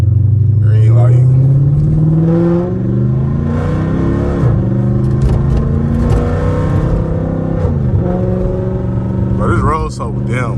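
Catless Dodge Charger SRT V8 accelerating hard on a road at night, a loud, deep engine roar climbing in pitch through the gears with a brief dip at a downshift, steady and close throughout.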